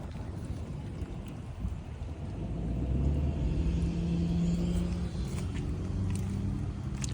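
A car pulls into a home driveway after a storm, its low engine rumble swelling partway through and holding close and steady over faint background noise.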